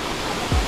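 The indoor waterfall at Cloud Forest, Gardens by the Bay, gives a steady broadband rush of falling water, fairly loud and enveloping, with a brief low thump near the end.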